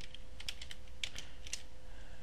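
Quick, light keystrokes on a computer keyboard, about a dozen soft clicks in an uneven burst, close and quiet, with a faint steady hum underneath.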